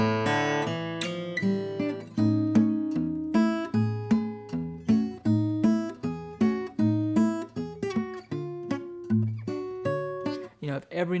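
A solo guitar plays a tune in a steady stream of plucked notes and small chords, each attack evenly weighted with no swell or accent, notes decaying between picks over about eleven seconds, with no voice.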